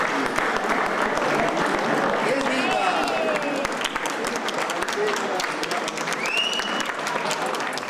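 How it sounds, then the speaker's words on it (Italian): Crowd applause for the mayor at a Borgofranco community event, sustained clapping with a few cheers and whistles rising above it. "Quindi facciamo un grande applauso al sindaco."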